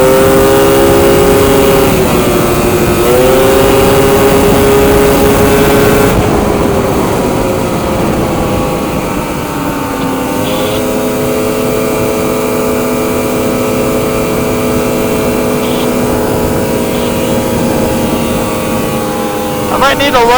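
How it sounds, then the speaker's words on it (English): A snowmobile engine revs steadily while riding on crusty snow, with sustained loud droning tones that dip and rise as the throttle changes throughout. "Let's get a little bit more heat in the motor before we do some more ripping"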